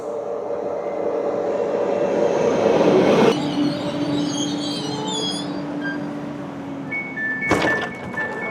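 A train pulls into Lyon Perrache station, a steady rumbling roll that builds to a loud peak, then a squealing brake tone runs on as it slows, with a sharp metallic screech near the end.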